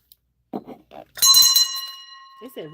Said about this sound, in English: They say ring this bell.